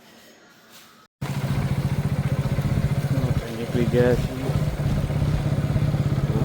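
A small motorbike engine cuts in abruptly and runs with a steady, loud, pulsing drone on the road, as a voice talks over it.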